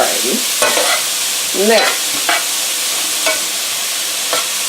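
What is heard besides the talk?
onions and tomatoes sauteing in a pan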